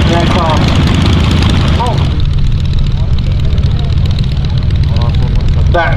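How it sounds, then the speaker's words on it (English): A formation of vintage aircraft taxiing out at the Shuttleworth air show gives a loud steady engine drone throughout, heard beneath a commentator talking over a public address. "our red, white and blue formation, albeit taxiing out in the order white, blue and red"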